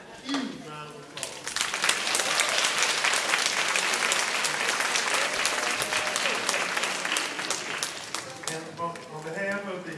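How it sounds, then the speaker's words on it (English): An audience at a council on aging Christmas party bursts into loud, sustained applause that runs for several seconds before thinning out, with some voices mixed into the clapping. "Let's give them a huge round of applause."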